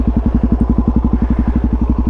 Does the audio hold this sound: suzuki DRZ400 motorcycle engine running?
yes